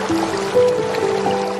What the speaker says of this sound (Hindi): नाव में पानी भरने लगा और नाव डूबने लगी